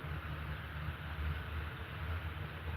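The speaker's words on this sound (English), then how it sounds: "Ooh, I hear some engine noise." Aircraft engine in a flight simulator game, a steady low droning hum that holds evenly throughout at moderate level with no talk over it.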